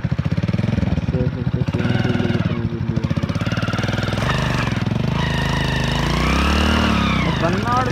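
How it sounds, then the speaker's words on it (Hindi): Motorcycle engine revving hard and rattling during a burnout, a loud, close, pulsing roar that rises and falls throughout, with a voice talking over it. "बर्नआउट में बर्नआउट करते हैं इसको, खुद ही बर्नआउट मारती है"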